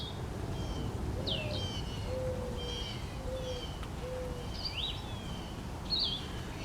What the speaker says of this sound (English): I'm just going to leave you with the sounds of Easter morning. The birds chirping.